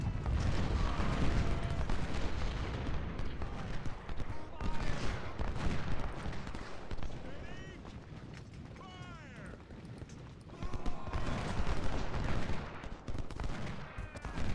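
Repeating rifles firing in the Ultimate General Civil War game at the Battle of Chickamauga: dense, overlapping volleys of crackling gunfire that swell, ease off in the middle, then surge again, loud and continuous throughout.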